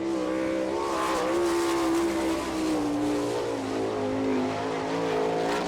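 Sprint car number 63 runs a lap at an All Star Circuit of Champions race in Attica, Ohio, its engine note rising and falling loudly as it accelerates and backs off through the corners.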